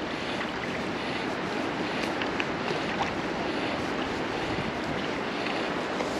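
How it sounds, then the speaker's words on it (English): Steady wind roars and buffets across the microphone outdoors, a broad constant rush with faint water and boat sounds beneath it. "It's getting pretty windy"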